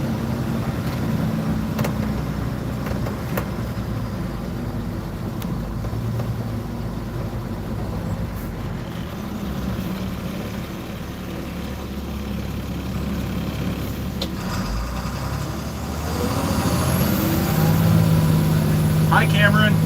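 A Bluebird school bus engine, bus 147, rumbles steadily from inside the cabin while riding, with a low droning hum and road noise throughout and the engine rising slightly near the end.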